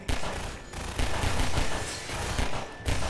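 Pistol fire in Half-Life 2, rapid shots blending into dense volleys in several bursts with short gaps between them, loud and close.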